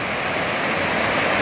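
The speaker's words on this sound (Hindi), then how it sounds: "गुप्त काशी से गोरीकुंड जाते हुए ये झरने" Waterfalls beside the mountain road from Guptkashi to Gaurikund, heard as a steady, loud, broadband roar of rushing water with no pauses and no voices.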